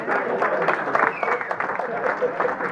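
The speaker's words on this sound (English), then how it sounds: "Give Brian a round of applause." Audience applause at a Rotary club meeting for the day's greeter, a moderate round of clapping from a room of members, with voices murmuring underneath.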